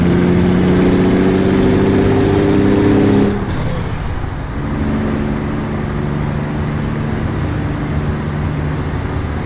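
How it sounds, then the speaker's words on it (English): A truck engine idles in American Truck Simulator, a steady low rumble with a high whine that drops in pitch partway through, followed by a brief hiss and a settled continuous idle, with no one talking. "Just letting you guys listen to the truck for the time being."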